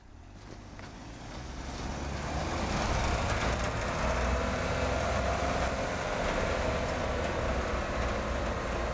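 A Suzuki Samurai truck fitted with tracks pulls away in first gear, a loud steady rumble of engine and track noise that builds over the first few seconds and then holds, with no talk.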